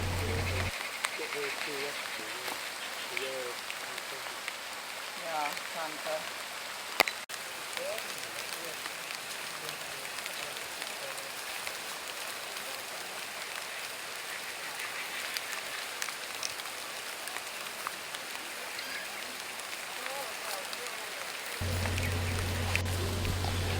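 Steady rain pours down in the Borneo jungle, a dense continuous hiss of drops on leaves and surfaces, near and even for the whole stretch with only small fluctuations.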